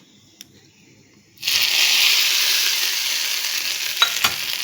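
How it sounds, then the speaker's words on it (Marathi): Hot tadka tempering is poured over chutney and bursts into a loud, sudden sizzle after a quiet moment, then keeps hissing steadily close by with a couple of small pops. "त्यानंतर गॅस बंद करून घ्या आणि हा तडका ह्या चटणीवरती ओतून घ्या मस्तपैकी."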